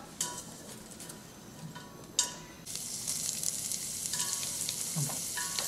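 Vegetables sizzle in a hot pan, a steady bright frying hiss that swells after a couple of clinks and scrapes of a utensil.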